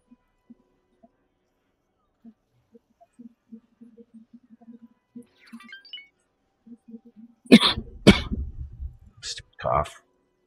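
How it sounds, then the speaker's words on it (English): A man gives a few harsh, close coughs in quick succession after a quiet stretch with faint clicks. "Stupid cough."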